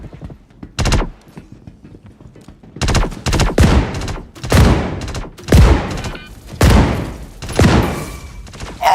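Gunfire bursts in a Star Citizen gun game match, with loud, close rapid volleys of automatic shots separated by brief pauses, repeating about seven times.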